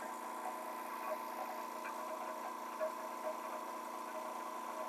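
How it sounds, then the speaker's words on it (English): A California air compressor runs at a steady, even hum with a mid-pitched drone and a few faint ticks, the only sound in the room. "I'll wait till the air compressor shuts off. I have a California air compressor."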